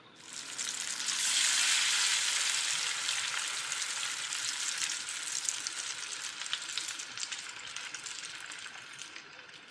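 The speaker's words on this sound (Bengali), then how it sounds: "এই তো মাছ এখানে ভাজতে বসে দিয়েছি" Katla fish frying in hot oil, a steady loud sizzle with dense crackle that swells early and holds evenly throughout.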